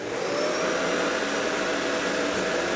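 Full-size vacuum cleaner drawing about 1600 watts through an inverter from a WattCycle 12-volt 100 amp hour lithium iron phosphate battery, a loud steady whine and roar running without a break, with no voices.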